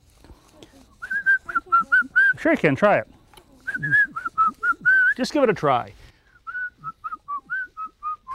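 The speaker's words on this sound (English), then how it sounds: "You know, I whistle while I work. Want to whistle?" A person whistles short, bright, tuneful notes in quick phrases while staining a porch, broken up by spoken remarks from a voice nearby.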